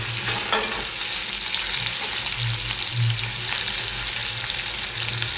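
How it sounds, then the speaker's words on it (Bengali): Paneer fries steadily in a hot wok, a loud continuous crackling sizzle with a low hum underneath and an occasional soft scrape. "তাহলে পনিরটা ভালো করে ভেজে নিই।"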